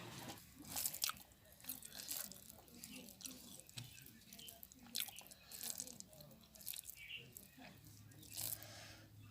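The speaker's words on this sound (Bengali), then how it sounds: "তো বন্ধুরা আমি খাইতে থাকি" Someone eats a village-style bottle gourd curry cooked with snakehead, spotted snakehead and rohu fish, with soft wet biting and crunching bites repeating close up, faint water and tap-like sounds in the background.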